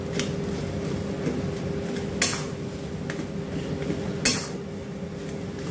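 A spiced potato mixture for potato chops is stirred in a pan, with a few sharp utensil clinks against metal spaced seconds apart over a steady fan-like hum.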